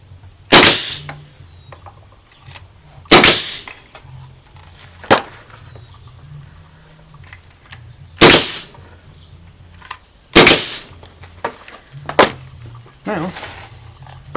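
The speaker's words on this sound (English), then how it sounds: "put my air gun in. I have my nails loaded right." A pneumatic air nail gun drives nails into lumber while a lumber rack is built, firing loud sharp bursts spaced a few seconds apart, with quieter handling knocks between shots.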